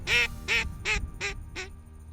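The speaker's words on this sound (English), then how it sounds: "there's always ducks in the air every time I turn around" Five loud, evenly spaced duck quacks close by, each a nasal honking call, repeated about every third of a second apart, with a low rumble of wind or ambient noise underneath.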